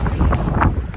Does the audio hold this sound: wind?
yes